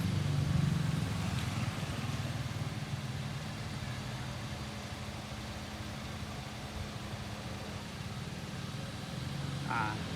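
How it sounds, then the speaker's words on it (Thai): A 2013 Toyota Altis with a 1.6-litre engine idles nearby with a steady low rumble and a faint hum, and brief mechanical clicks sound near the start and end. "คันนี้รถสตาร์ทเครื่องแล้วนะ"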